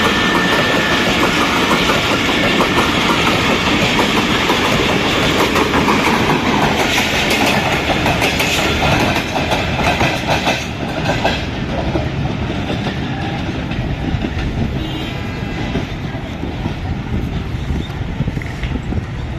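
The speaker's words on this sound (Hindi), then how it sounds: "40 डाउन जाफर एक्सप्रेस बदामी बाग फाटक से इस वक्त थ्रू पास हो रही है ZC20 6419 की क़यादत में" The 40 Down Jaffar Express, led by locomotive ZC20 6419, runs through Badami Bagh level crossing on Pakistan's railway without stopping. Its loud, steady roar and rhythmic clickety-clack of wagons go on close by from start to finish.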